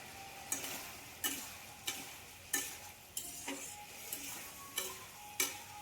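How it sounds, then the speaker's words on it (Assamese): Cumin seeds and black pepper frying in oil in a pan for a white brinjal dish, a soft steady sizzle broken by regular stirring scrapes about every second, close and quiet with no talk. "এতিয়া এইখিনি অলপ সময় মই ভাজিছোঁ।"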